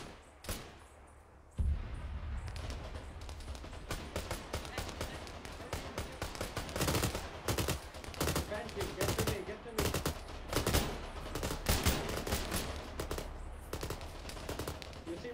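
Machine gun fire in the military video game ArmA 3 rattles in repeated rapid bursts, near and loud, with voices talking over the shooting throughout.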